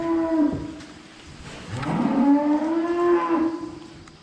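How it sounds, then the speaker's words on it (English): A dairy cow named Peanut moos in a free-stall barn: one short low call near the start, then a long loud drawn-out moo close by, with quiet barn background. "And here's a cow, Peanut."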